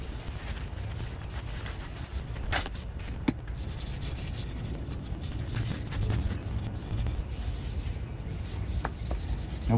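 An abrasive pad scrubs baked-on grease from the housing of an old 1950s Milwaukee Model 414 Sawzall, a steady, close, gritty rubbing that continues unbroken with a few sharp clicks.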